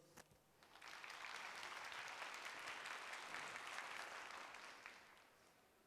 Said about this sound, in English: can I ask this whole section to start clapping when I nod my head